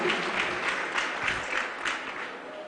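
A church congregation claps hands during a live Holy Communion service, producing dense, rapid clapping in rhythmic surges, loud and fairly close, lasting the whole moment.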